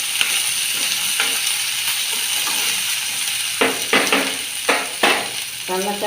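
Stuffed brinjals fry in two spoons of oil in a kadai, giving a steady soft sizzle broken by several sharp metallic scrapes and clatters of stirring toward the end.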